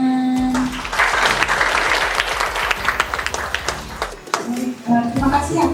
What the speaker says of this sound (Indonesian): kita beri tepuk tangan sekali lagi kepada teman-teman